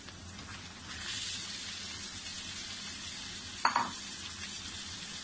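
Mutton dropped into onions already frying in a pan for karahi, raising a broad steady sizzle with a brief sharp clatter midway, close and fairly quiet, no voices.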